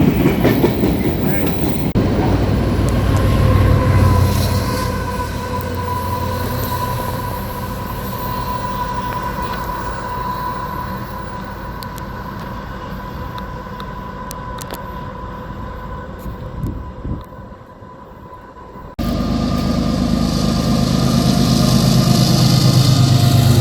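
A CN freight train rolls past, a long steady rumble with clattering wheels and faint squeals, loud and close throughout, briefly dropping before the roar returns; a voice speaks faintly beneath it at times.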